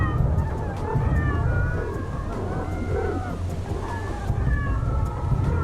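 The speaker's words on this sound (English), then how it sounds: "We'll listen to some little cat sounds right here." Cat meows from machines in the video game Techtonica, several high wavering mews rising and falling over a steady low mechanical hum, fairly close and continuous.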